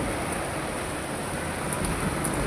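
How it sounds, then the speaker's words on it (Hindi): Heavy rain pours down in a steady, dense hiss with faint higher patters on top and no voices. "हो जाओ बहुत तेज़ी से बारिश हो जाओ"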